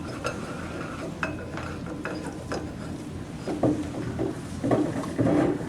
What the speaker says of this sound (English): I'm going to place the regulator around the neck of the oxygen tank, lining the two prongs up and tightening.